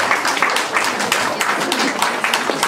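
An audience at a hustle dance championship claps steadily throughout, a dense, continuous wash of applause at moderate loudness with no clear talk over it.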